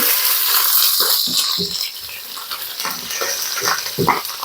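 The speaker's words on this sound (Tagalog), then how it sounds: "Ito naman tayo sa piniprito natin" Food frying in oil, a loud crackling, popping sizzle that runs throughout with bursts of spattering and a few light rattles, and no voices.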